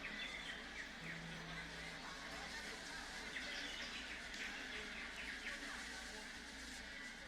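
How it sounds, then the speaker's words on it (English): Birdsong within a live ritual-folk performance: scattered chirps and tweets sit over a steady wash of ambient crowd and stage noise, moderately distant and fairly faint throughout. "I love the nature sounds of the birds."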